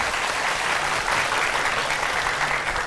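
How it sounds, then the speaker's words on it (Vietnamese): Sustained applause from a studio audience for two grooms on a Vietnamese game show, loud and continuous throughout with no speech on top. "Một tràng pháo tay cho hai chú rể."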